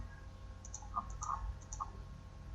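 A computer mouse gives a few faint, crisp clicks in quick succession against a quiet background hum.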